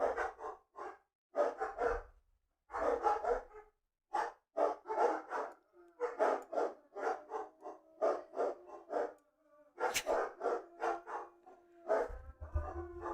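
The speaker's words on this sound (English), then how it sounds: "Oh, I think another dog's barking at them." Several dogs bark and howl outdoors, with repeated bursts of barking in an irregular rhythm, fairly close and loud, carrying on for the whole stretch with brief pauses between volleys.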